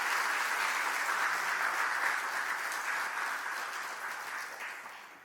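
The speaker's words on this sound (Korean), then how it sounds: "박수 한번 합시다" A church congregation applauds together in a broad, steady wash of clapping that gradually fades, with no voices over it.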